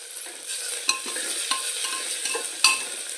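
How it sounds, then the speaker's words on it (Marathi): Goda masala being stirred into spiced masale bhaat rice in a pressure cooker, a steady scraping stir over a soft sizzle with a few sharp clinks of the spoon against the metal, close and alone with no talk. "हे करून घ्यायचं आहे मिक्स"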